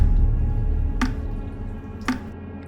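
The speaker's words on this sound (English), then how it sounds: "It was the faucet in the bathroom, she thought to herself." A dripping bathroom faucet lets fall two distinct, close drops about a second apart over a low, steady background hum.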